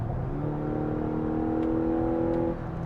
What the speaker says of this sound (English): even under mild throttle application, the 4-cylinder is noisy